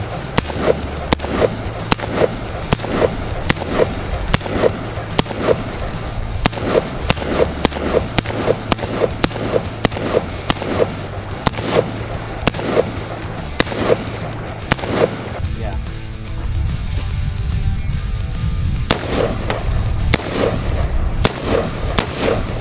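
Rifles fitted with Anderson uppers firing a long string of sharp, loud outdoor shots in a rapid, fairly steady rhythm, with a brief lull and scattered crackling near the end.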